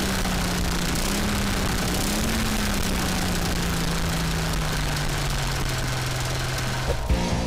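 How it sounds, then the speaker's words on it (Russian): A small single-cylinder walk-behind-tractor engine on a homemade snowmobile runs continuously with a steady droning tone that drifts slightly in pitch, loud and close, ending with a brief clunk. "В таком режиме двигатель работает мягче и легче набирает обороты."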